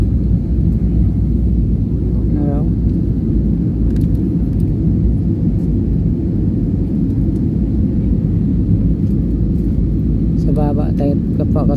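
An airliner's engines rumble through the cabin during landing, a loud steady low drone that runs unbroken throughout, with faint voices and brief chimes sitting over it.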